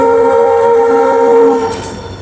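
An Indian passenger train at Nokha railway station, a loud, sustained horn-like tone with steady rail rumble, heard close and alone.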